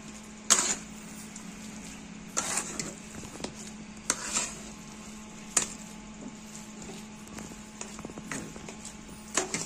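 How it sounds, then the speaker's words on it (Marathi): Spiced potato filling for batata vada stirred in a pan, a spoon scraping and knocking the metal in a string of faint, spaced strokes over a low steady hum. "अशा पद्धतीने भाजी मिक्स करून घ्यायची."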